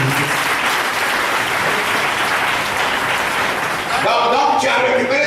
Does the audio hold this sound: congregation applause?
yes